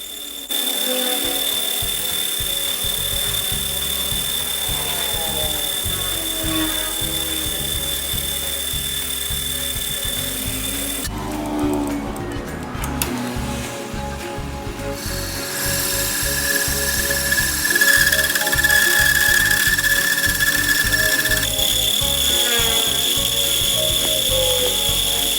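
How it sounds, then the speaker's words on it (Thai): A boring machine cuts the hard cylinder sleeve of a Honda Wave 125 engine, opened out for a 90 mm piston. It gives a loud, steady metallic whine and grinding that runs throughout, briefly changing tone midway, with no talking. "ปอกสูบแข็งมากนะครับต้องขวานทีละนิด"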